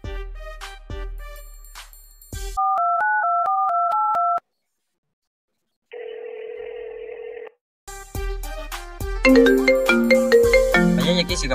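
A phone call being placed to a number: a short series of electronic dial beeps, then a looping tonal ringtone melody, a pause, a steady ringback tone, and a busier ringtone tune at the end, with no talking.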